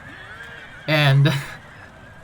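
A cavalry horse in Shogun 2 Total War lets out one loud, close whinny lasting about half a second, with a brief spoken word just before it.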